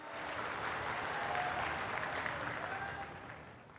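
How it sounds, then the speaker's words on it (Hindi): Sustained applause from a large crowd at a political rally in Jhabua, Madhya Pradesh, welcoming the Prime Minister; steady and dense, rising slightly then tapering, heard alone without talk. "एक बार जोरदार ताली बजाकर माननीय प्रधानमंत्री जी का स्वागत करें"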